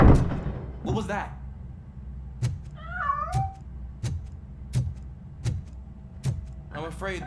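A cat in the video game RoboCop: Rogue City meows several times, short and fairly close, over a low game hum with scattered footsteps and clicks.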